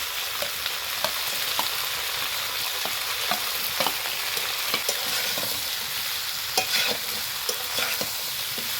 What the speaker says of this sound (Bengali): এই সবজির সঙ্গে আমি যে মশলাগুলো দিয়েছি আমি ভালোভাবে কিন্তু সবজির সঙ্গে ফ্রাই করে নিয়েছি